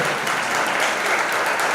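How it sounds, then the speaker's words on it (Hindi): An audience applauds after a stage play performed by a women's club in Banswara, sustained dense clapping throughout, loud and close, with no talking. "आप सबने तालियां बजाई"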